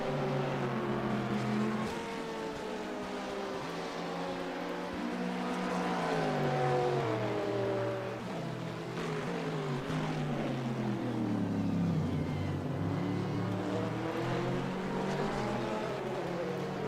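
Sports cars race at Portimao in a racing video game, several engine notes rising and falling as they pass and shift, steady and loud throughout with no talk.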